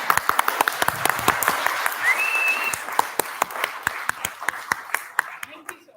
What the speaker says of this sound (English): let's have a huge round of applause for Ramakrishna.